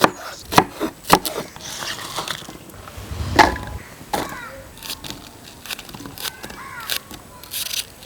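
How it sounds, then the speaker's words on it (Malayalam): Irregular knife chops through taro stems land on a board, a few sharp close hits with pauses, joined by occasional crow caws in the background. "കഴുകി വൃത്തിയാക്കി വെച്ച ചേമ്പൻ തണ്ട് ഇനി അരിഞ്ഞെടുക്കണം"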